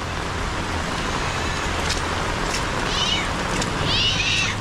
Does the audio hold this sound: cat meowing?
yes